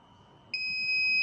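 A buzzer on a homemade gas detector circuit with green and red LEDs snaps on midway into a steady, piercing electronic tone that holds to the end, after near silence.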